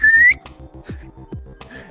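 A short rising whistle calls a dog, clear and close, followed by a low steady rhythmic pulse and a couple of faint whistled notes later on.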